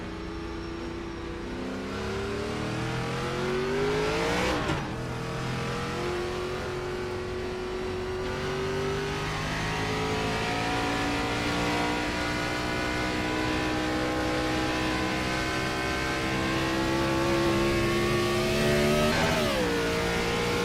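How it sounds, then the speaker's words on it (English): NASCAR Next Gen race car engines rev at Atlanta Motor Speedway, a continuous loud drone with rising and falling pitch sweeps as cars pass, swelling sharply at two points. "Man, I love the sound of these engines."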